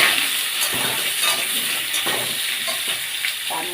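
Pumpkin pieces fry in a pan of hot oil with five-spice (panch phoron), giving a continuous close sizzle with faint clinks and stirring scrapes and no talk.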